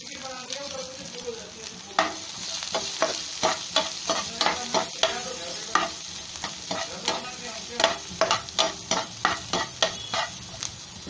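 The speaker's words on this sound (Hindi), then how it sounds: "मैं इसमें ओनियन ऐड करूँगी और लो फ्लेम पर इसको सॉफ्ट बनाना है" Onion softens in a pan over a low flame for a yam curry, its gentle sizzle punctuated by a quick run of rhythmic scraping strokes as a spatula stirs, growing busier toward the end.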